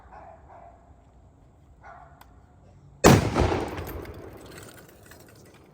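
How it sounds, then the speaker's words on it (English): A firearm suffers a catastrophic failure and detonates with a sudden sharp blast partway through, followed by a decaying rumbling tail; faint dog-like barks and background noise come before it. "You saw basically what happened to the firearm. It detonated, for lack of a better term"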